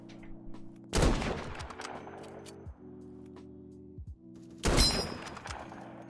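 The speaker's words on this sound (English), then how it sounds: "That shot was neat." Two sharp gunshot bursts ring out in the Krunker.io browser shooter, one near the start and a second a few seconds later, each loud and close over a steady low in-game hum.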